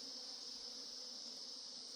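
Honeybees stream out of a hollow log hive in the hills, giving a steady, continuous buzzing drone that holds level throughout without pauses.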